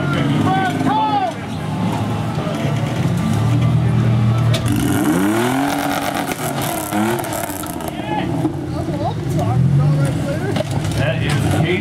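Modified Toyota pickup with an exo cage at a WE Rock rock crawling competition, its engine revving and surging at mid distance under continuous loud announcer commentary over the event.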